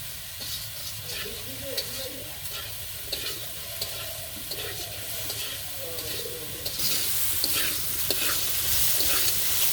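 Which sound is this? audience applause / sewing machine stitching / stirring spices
stirring spices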